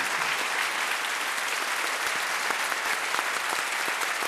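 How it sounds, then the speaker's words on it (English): A large audience at the 2010 Scripps National Spelling Bee gives a 13-year-old speller a standing ovation, with dense, loud applause sustained without a break throughout. "Another standing ovation from the crowd for this 13-year-old"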